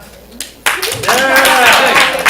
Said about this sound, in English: We got some applause from the wooing guy